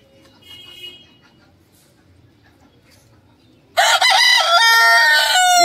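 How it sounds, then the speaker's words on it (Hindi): Caged roosters of a feisty fighting type and hens on a home plot, quiet background at first, then a loud burst of crowing and clucking close by for the last couple of seconds. "इसमें हमारे मुर्गे बंद हैं।"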